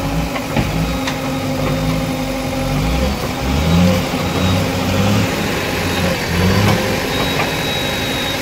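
A vehicle engine labours on a soft dirt road under construction, revving up and dropping back several times, loud and close, with no talking.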